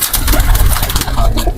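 Many fancy pigeons coo at close range in a breeder's loft, dense overlapping throaty coos with a low engine-like hum underneath.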